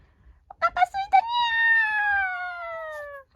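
A stray kitten gives a few short chirps followed by one long, drawn-out meow, close by and fairly loud, with a person's voice nearby.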